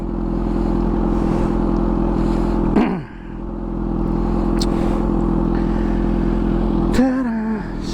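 A Kawasaki Z H2 motorcycle engine idles steadily while warming up, a constant low throb close by with a brief clatter near three seconds and a short rising rev near the end.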